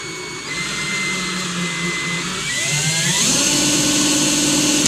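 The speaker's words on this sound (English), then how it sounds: "we're going to trim this piece of brass" A small power trimmer whirs loudly and steadily while cutting down a .223 rifle brass case to make Tokarev brass, its motor tone shifting and rising partway through, close and alone without speech.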